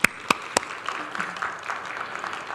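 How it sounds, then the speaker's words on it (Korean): Applause from a church congregation at a Korean Methodist men's winter retreat opening service: a few sharp claps, then a brief, moderately loud patter of clapping from the crowd. "우리 박수 한번 보내주시죠."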